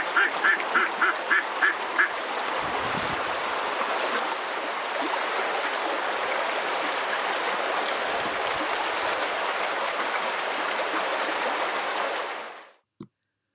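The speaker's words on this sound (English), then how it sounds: "with the quacking of ducks, the gurgling of the stream, and a gentle breeze" A few short duck quacks sound at the start, then a steady rushing gurgle of a stream in Turkey's Ihlara Valley carries on without a break until it cuts off abruptly.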